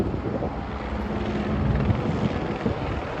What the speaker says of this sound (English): we can see all the helicopters taking off too.